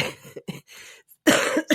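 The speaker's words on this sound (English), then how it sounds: "Sorry, I didn't mean to make you laugh and then cough." A person coughs up close after laughing, giving a few short rough bursts and then a longer, louder harsh cough near the end.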